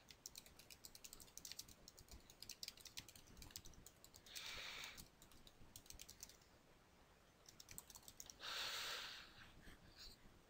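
Typing on a computer keyboard, a run of quick, quiet clicking keystrokes at close range, with soft breathing and a couple of brief hissy sounds between bursts.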